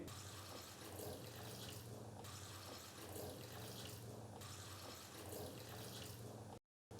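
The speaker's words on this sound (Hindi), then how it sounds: "मैंने 3 गिलास भर के इसके अंदर पानी डाल दिया है" Water runs steadily in a continuous splashing stream into a cooking pot, about three glasses poured in for aloo gosht, then cuts off abruptly near the end.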